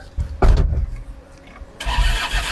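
A police vehicle's engine cranks and catches in a short burst, then a second louder rev-up of the motor follows after a pause, heard close with no talking.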